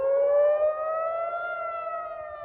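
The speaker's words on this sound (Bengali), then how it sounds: "তেল আভিভ, জেরুজালেম সহ ইসরায়েলের বড় শহরগুলোর অধিকাংশতেই সাইরেনের শব্দ শোনা গেছে" Civil defense air raid sirens wailing over Israeli cities such as Tel Aviv and Jerusalem, a steady rising-and-holding multi-tone wail, loud and sustained with a slight swell early on, no voices.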